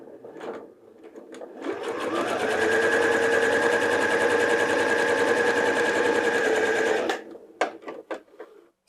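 A sewing machine stitches a French seam at 7 mm from the fabric edge, a steady close mechanical whirr lasting about five seconds, with a few clicks and handling knocks before and after.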